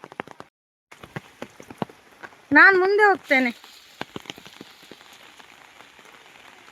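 Heavy rain falls through a forest plantation, a steady patter broken by sharp drips and taps, with one person speaking briefly in the middle.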